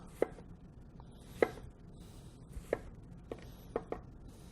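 A knife chops vegetables into julienne strips on a cutting board, about six sharp, distinct cuts spaced unevenly and heard up close in an otherwise quiet kitchen.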